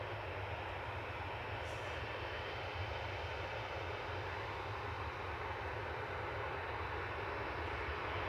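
A Ryanair UK Boeing 737-800 arriving from Belfast at Manchester Airport, a faint, steady engine roar heard from a distance with no voices.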